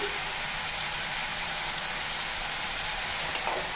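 Potato fry sizzles steadily in hot oil in a pan as it gets stirred, with a couple of faint scraping clinks near the end.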